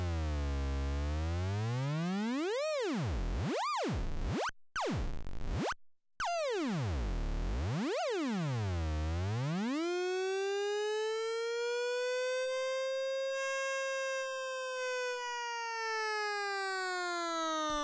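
Joranalogue Step 8 analog sequencer in a modular synth, run at audio rate with its pitch varied: loud electronic tones sweep up and down in siren-like arcs, briefly drop out, then settle into a rich buzzy drone that slowly bends.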